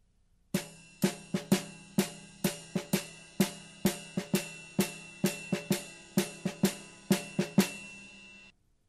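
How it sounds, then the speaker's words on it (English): Drum kit playing an eighth-note pattern swung in jazz style over a ride cymbal, with a lilting stream of crisp strikes and sustained cymbal shimmer, close and alone. "take those eighth notes and put them perhaps in a jazz style"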